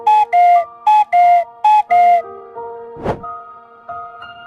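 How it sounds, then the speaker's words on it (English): Cuckoo call rendered as repeated two-note whistled tones in three clear pairs, loud and close, followed by a thunk and sustained tonal notes. "Cuckoo."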